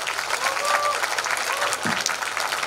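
An audience applauds continuously at the opening ceremony of the 2019 Yeongju Korean Seonbi Culture Festival, dense clapping throughout with a faint melody in the background.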